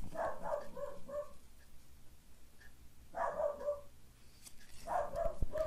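A dog barks indoors in short clusters of several barks with pauses between, moderately loud over a quiet room background.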